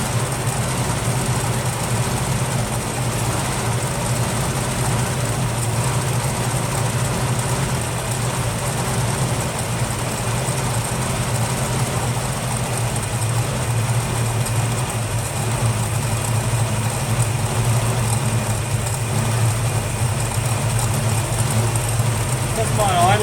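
A Valiant VH Charger's engine idles steadily and evenly for a long stretch, warm, a low continuous rumble close by, with faint talk underneath.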